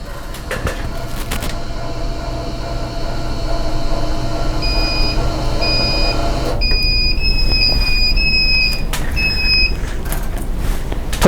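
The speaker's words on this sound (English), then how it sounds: "Push any button to silence the alarms." Alarms beep from a rotary evaporator chiller and cold trap. Several high electronic tones repeat in short, evenly spaced bursts over a loud steady machine hum, then overlap and grow more frequent.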